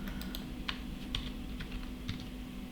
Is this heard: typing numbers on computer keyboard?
yes